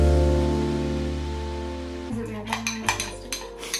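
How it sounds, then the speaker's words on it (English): Spoon clinking and scraping against a bowl while plain yogurt face mask is stirred, a handful of light rhythmic taps close by following a steady tonal hum that cuts off partway through. "now we're supposed to mix it together here"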